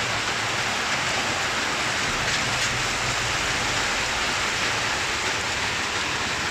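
Heavy rain pours steadily onto a flooding street, a dense, even hiss of falling water that holds at the same strength from start to finish with no voices.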